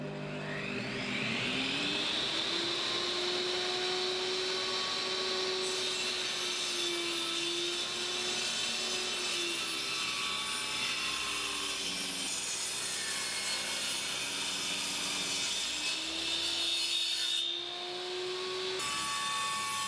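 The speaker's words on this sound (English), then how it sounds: "Then I cut out the bendings." Wooden bendings for the front of a mobile workbench vise are cut out with a saw, producing a continuous, steady rasping drone that runs nearly the whole stretch at close range, with shifting pitch and no talking.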